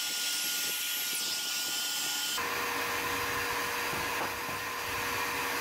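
A saw blade cuts wood in repeated narrow passes to widen a notch for a snug fit while framing a garage barrier. A steady, loud mechanical whine runs throughout the clip, with a harsher, denser stretch in the second half.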